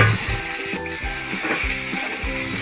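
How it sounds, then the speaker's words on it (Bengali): Spice paste with cut potato and ridge gourd frying in a pan, a steady close sizzle broken by repeated scraping strokes of a stirring spoon, with no voices. "এবার কেটে রাখা আলু আর ঝিঙে দিয়ে ভালো করে মশলাটাকে কষিয়ে নিন"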